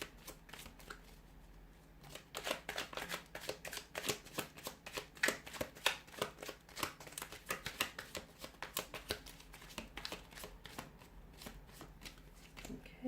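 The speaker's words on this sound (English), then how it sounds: "So I'll give the cards a shuffle here" Tarot cards shuffled by hand in a quiet room, a long run of rapid, crisp riffling slaps and flicks, close and fairly soft, with no voices.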